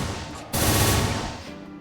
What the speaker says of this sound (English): it just sounds like a gunshot goes off.